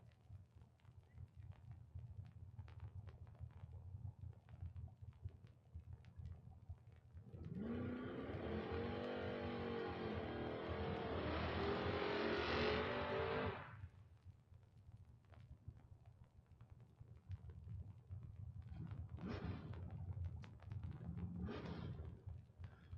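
Drag race cars, a Mustang among them, launch at a Door Wars drag racing event: a loud, dense engine roar surges for about six seconds and then cuts off, with quieter trackside noise before and after.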